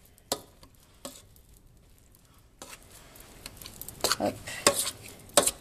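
Butter being stirred into homemade mashed potatoes with a large spoon, giving scattered soft scrapes and sharp clinks of metal against the pot that grow busier toward the end, close by, with a brief spoken word.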